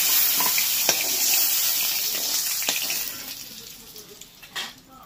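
Three hilsa fish heads fry in hot oil with a soft, close crackle and hiss that gradually fades, a few light clinks and scrapes along the way.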